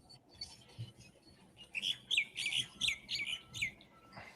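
Morning birdsong: a quiet string of bright, short chirps repeats in a quick run over a soft room hiss, sounding somewhat distant with no talking.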